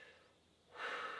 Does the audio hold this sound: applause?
no